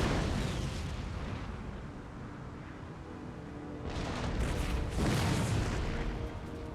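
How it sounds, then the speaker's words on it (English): Artillery cannon fire on a battlefield in Empire: Total War, a steady rumbling barrage with heavier booming bursts swelling near the end, continuous and moderately loud. "Rubbish counter battery fire there."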